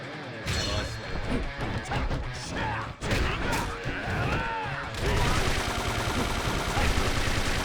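Bursts of machine gun fire ring out in the Yakuza 5 Remastered video game, with loud crashing impacts and rapid clattering shots; a voice briefly speaks among the chaos before a denser, sustained volley at the end.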